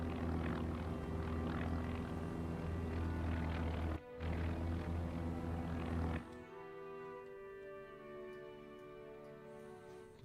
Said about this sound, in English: I think those might be Japanese float planes from their cruisers.